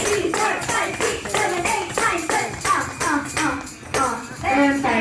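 Children and family at a Jollibee birthday party clap together in a steady counted rhythm of about ten claps, with children's voices mixed in.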